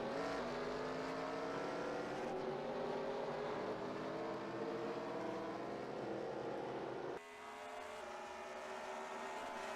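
Several race cars roar together on the Road America circuit in a video game race, a dense, steady layered engine drone with shifting pitches, abruptly thinning partway through before swelling again.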